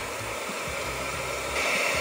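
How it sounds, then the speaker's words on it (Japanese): A hair dryer runs at its maximum 1200W setting, powered by an EcoFlow RIVER 2 Pro portable power station, giving a steady, close, even rush of blown air that rises slightly near the end, with no talking. "問題なくドライヤーが使えています"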